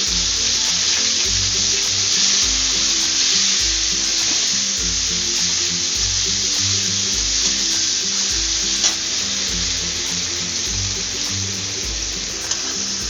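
Sliced capsicum frying in a pan makes a loud, dense, continuous sizzle up close, with a rhythmic low musical pattern beneath it.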